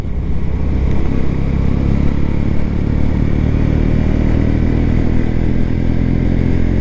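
A Honda CB125 Hornet motorcycle ridden downhill through corners on a road, its engine droning loud and steady throughout, close to the microphone with heavy wind buffeting and no talk.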